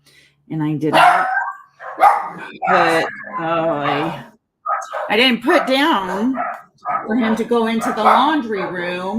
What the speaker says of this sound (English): I apologize if you hear some dog barking.